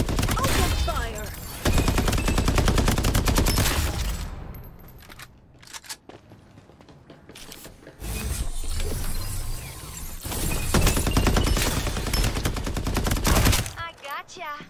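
Dense automatic gunfire in the video game Farlight 84, long loud rattling volleys that pause briefly in the middle before resuming, close and heavy, with game voices mixed in.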